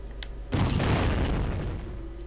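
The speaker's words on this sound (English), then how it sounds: "I call it the guided leg cannon. It is very powerful, but uses special ammo." A guided leg cannon fires in the video game Blood Will Tell: one heavy, close boom bursts out after a short quiet lead-in and rumbles down over the following couple of seconds.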